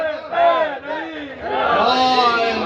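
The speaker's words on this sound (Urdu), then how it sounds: "نعروں کی گونج ہے، مومن لگائے نعرے، یہ نعروں کی عید ہے" Crowd at a Shia poetry majlis in Multan chanting slogans in loud unison, rising and falling in bursts, then swelling into a sustained roar of many voices.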